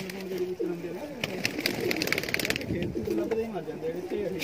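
Many pigeons coo steadily in a crowded loft of about 111 birds being fed, their low rolling calls layered close and continuous while someone talks over them.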